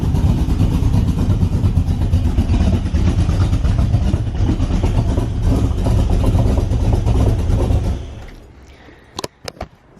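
AC Cobra engine with an aggressive cam running loud and steady after a cold start, a thick lumpy rumble that cuts off near the end, followed by a few sharp clicks in the quiet.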